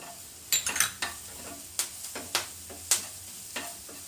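Onions and green chilli fry in a pan under a low sizzle, punctuated by a series of crisp spatula scrapes and clinks against the metal every half second or so.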